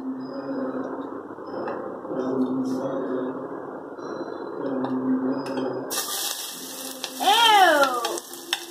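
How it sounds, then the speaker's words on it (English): Onions sauté in a hot pan for mac and cheese, giving off a steady close-up sizzle and crackle. Near the end a sharper hiss and a few brief warbling tones come in. "And now we're going to saute the onions."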